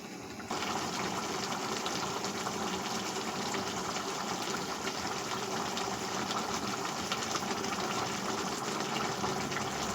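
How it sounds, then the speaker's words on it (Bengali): Water pours steadily into a pan of potato and dried fish curry, a continuous loud gushing and splashing that starts abruptly and runs unbroken to the end, with no talk over it. "তারপরে জল দেবে।"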